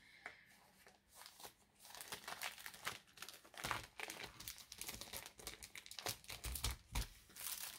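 A paper envelope is pulled out while making Halloween greeting cards, a soft, close crinkling and rustling with quick bursts of crumpling that come and go over several seconds.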